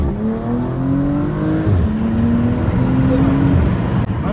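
A 462-horsepower Porsche Panamera doing a launch-control start, a loud engine roar that climbs in pitch through quick upshifts as the car accelerates hard, with faint voices underneath.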